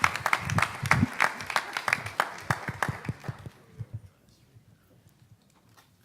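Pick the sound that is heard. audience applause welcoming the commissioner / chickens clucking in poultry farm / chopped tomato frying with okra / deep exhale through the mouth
audience applause welcoming the commissioner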